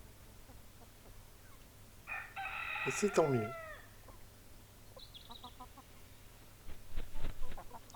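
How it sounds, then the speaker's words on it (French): A rooster in a garden near a compost bin lets out one loud, drawn-out crow near the middle, followed by softer clucks toward the end, with a short spoken remark over quiet background. "On voit un coq, un gros plan qui s'étire."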